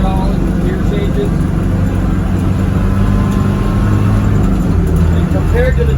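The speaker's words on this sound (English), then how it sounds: "we're cruising along here at 40 miles an hour, going uphill in fourth gear" A 1986 Land Rover 90 with a non-turbocharged diesel engine climbing uphill in fourth gear at about 40 mph, heard from inside as a steady, loud engine drone and road rumble throughout, with someone talking over it.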